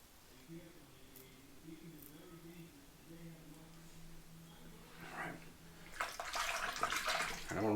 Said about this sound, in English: I'm going to rinse this razor out real quick with some water.